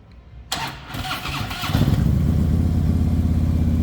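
A 2014 Harley-Davidson Ultra Classic Tri-Glide trike engine cranks and catches, then settles into a loud, steady, throbbing idle close by.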